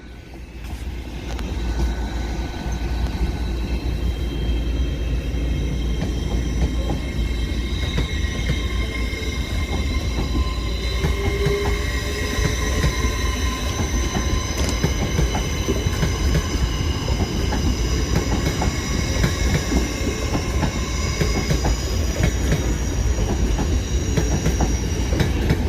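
LNER Azuma 801226 running from London King's Cross to Edinburgh Waverley passes through Newcastle station, a loud steady rumble of wheels and motors with faint squeals sustained throughout, no voices.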